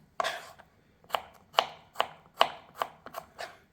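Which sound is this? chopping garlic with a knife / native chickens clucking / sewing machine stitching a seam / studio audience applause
chopping garlic with a knife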